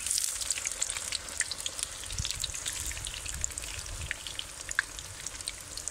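Besan naan, already cooked once, shallow-frying in a pan: a steady close-up sizzle with fine crackling spatters and a few soft low thumps as it is pressed, no voices.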